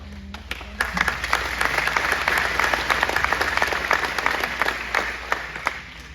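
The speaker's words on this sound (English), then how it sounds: "we owe them a big round of applause" Audience applause at a campaign expo event, a moderately loud, sustained patter of clapping with a few sharper individual claps standing out near the microphone.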